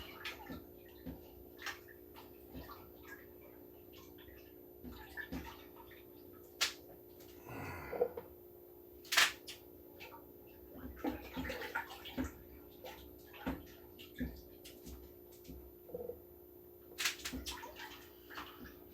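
Blueberries rinsed under a running tap in a kitchen while making a smoothie: a faint, steady wash of flowing water with scattered splashes and soft knocks against the bowl, fairly quiet and without talk.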